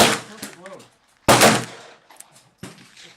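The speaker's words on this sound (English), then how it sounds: "All right, 6 more shots." Three sharp revolver gunshots from a .38 Special firing .35 Remington bullets at an outdoor target range, each loud, close blast followed by a short decaying echo, spaced roughly a second apart.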